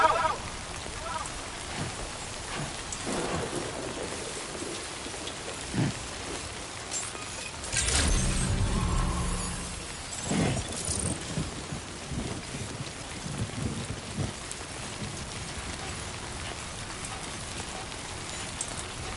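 Rain falls in the video game Death Stranding 2, a steady hiss of rainfall with a louder rumbling swell in the middle, like distant thunder, heard alone at moderate volume.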